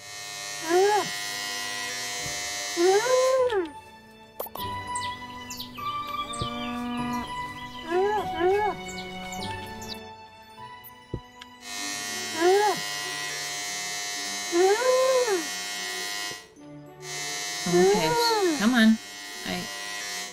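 Electric clippers shear sheep in a farm-life video game, a steady buzzing hum running in long stretches broken by short pauses, with rising musical or animal-like tonal calls layered over the buzz at intervals.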